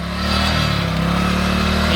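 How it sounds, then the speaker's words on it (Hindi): Motorcycle engine revving hard and steadily while its rear tyre slips in flood water and mud, a loud close continuous drone with no speech. "चलो बाइक आगे ही नहीं बढ़ रही है, देखें सारा पानी ही पानी है। पीछे टायर स्लिप हो रहा है"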